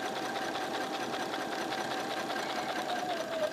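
Sewing machine stitching back over a previous row of quilting on a quilt, a steady, close mechanical whir with rapid needle rhythm that holds throughout, no talking.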